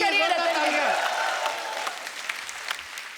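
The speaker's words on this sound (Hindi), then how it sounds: "रतन जी के लिए जोरदार तालियां" Studio audience of a televised Hindi comedy show bursts into loud applause, a dense sustained clatter of clapping that slowly thins over a few seconds, with a presenter's voice heard briefly over it at the start.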